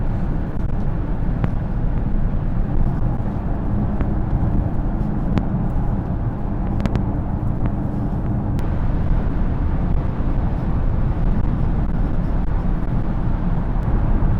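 A Peugeot 408 with an automatic gearbox takes a bend at about 120 km/h, a loud steady roar of road and wind noise heard from inside the cabin with the engine humming underneath.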